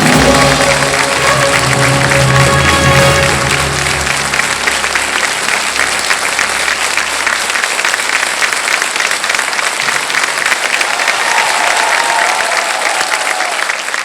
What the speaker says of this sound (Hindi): ताली सब लोग बजा रहे हैं